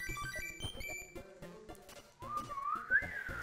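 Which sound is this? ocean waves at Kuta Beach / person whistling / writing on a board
person whistling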